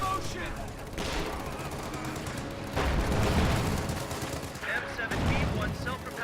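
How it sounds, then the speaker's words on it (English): Infantry support guns in a World War II strategy video game firing at riflemen, repeated bursts of gunfire and rattling machine-gun fire over a dense battle din, loud and continuous. "Infantry support guns firing at these riflemen will suppress them."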